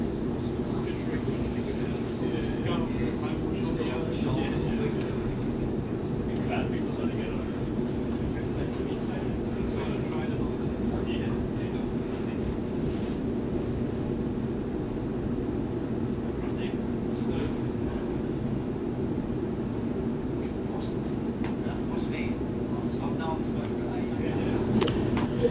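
A Sydney Waratah Series 2 train departing Lidcombe station, heard from inside as a steady, continuous rumble and rolling drone with faint squeals, under occasional talk.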